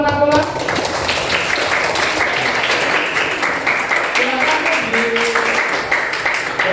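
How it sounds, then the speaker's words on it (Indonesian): A classroom of students claps for a presenting group during a teaching practice session, with steady mid-level applause mixed with chatter and voices throughout. "tepuk tangan untuk kelompok Nakula"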